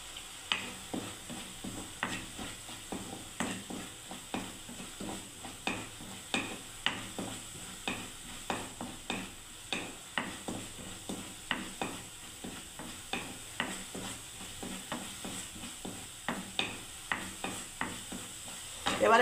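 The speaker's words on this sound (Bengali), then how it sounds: "এই যে জিরে ধনে শুকনো লঙ্কার একটা এলাচ বন্ধুরা এবারে দিয়ে দিচ্ছি দেখুন।" Cumin, coriander, dried chilli and cardamom sizzle in hot oil beneath a fast, regular run of utensil scrapes and taps against the pan, quiet and close, with no talking.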